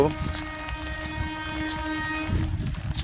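Distant train horn on a rainy morning among wet greenery: one long, steady, tonal blast lasting several seconds over a low rumble of rail noise.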